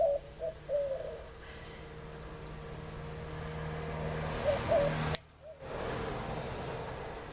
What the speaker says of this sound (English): I think that's a dove. They're cute. I think it's one of the Puerto Rican doves.